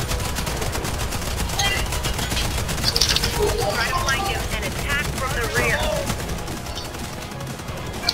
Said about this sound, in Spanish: Ya le está disparando.